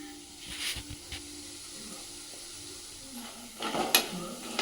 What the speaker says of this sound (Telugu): ఇలా మంచిగా డీప్ ఫ్రై చేయాలన్నీ